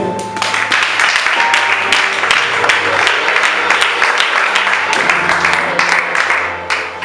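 A church congregation applauding in praise during a healing service, sustained rhythmic clapping from many people, loud and close, with a held organ or keyboard tone underneath.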